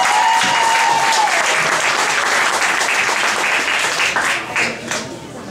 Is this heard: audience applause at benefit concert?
yes